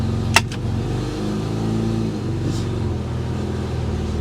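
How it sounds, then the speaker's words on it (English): A Mitsubishi Diamante engine idles with a steady low rumble, and a short mechanical clunk comes near the start as the transmission drops into gear. "We should verify the transmission goes into gear."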